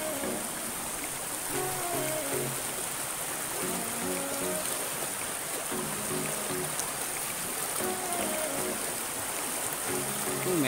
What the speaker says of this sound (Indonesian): Ini airnya juga agak sedikit deras sih.